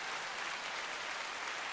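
Steady, dense wash of applause played as a sound effect, even and unbroken from start to finish at a moderate, slightly distant level, with no voices over it.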